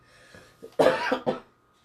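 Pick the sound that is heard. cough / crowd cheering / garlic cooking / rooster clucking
cough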